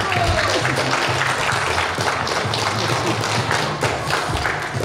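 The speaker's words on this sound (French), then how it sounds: "on peut aussi applaudir notre metteur en scène" Theatre audience applauding the director at the last performance of a Feydeau farce, a dense, steady wash of clapping filling the hall from start to end with a few louder thuds.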